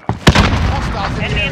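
Grenade blast in Call of Duty: Modern Warfare 10v10 Cranked multiplayer, a single loud booming burst that rolls into sustained busy battle noise of gunfire and effects.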